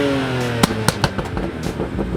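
A straight-piped BMW 335i exhaust rumbles loud and close, with a droning engine note and several sharp pops or crackles breaking through the steady roar.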